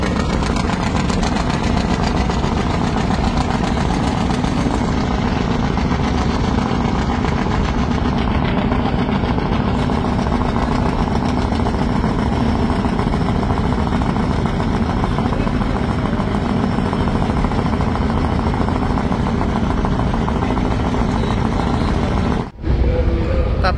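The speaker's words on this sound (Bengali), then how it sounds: "আর টার্বোর প্রচন্ড সাউন্ড প্রিন্স আওলাদ 7 লঞ্চের, যেটা আপনারা আওয়াজ পাচ্ছেন, উইচা ইঞ্জিনের প্রচন্ড সাউন্ড টার্বোর" The turbocharged engine of the Prince Awlad 7 river launch drones loud and steady at close range, a constant heavy rumble with a whooshing turbo layer that barely changes throughout.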